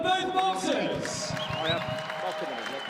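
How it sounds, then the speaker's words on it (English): Crowd applause for both boxers after a professional boxing bout, scattered clapping under a ringside announcer's voice and arena murmur, moderate and slightly distant. "Some warm applause as we await the winner rounds here."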